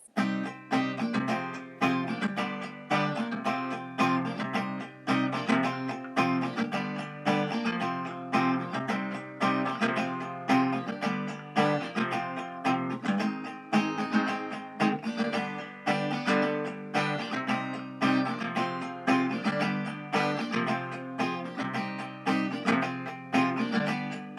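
Guitar strumming the outro of a song, verse and chorus parts combined in a beginner arrangement, steady driving rhythm with no voices, fairly quiet but continuous.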